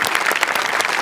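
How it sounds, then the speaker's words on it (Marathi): An audience at a Marathi village comedy performance breaks into loud, dense applause, a brief burst of many hands clapping together without letup. "जोरदार टाळ्या"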